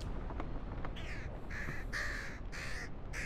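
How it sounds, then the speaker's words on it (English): Crows in the video game Pilgrim giving a few rough caws in close succession, moderately loud over a faint ambient background. "If there's crows, then it might be death"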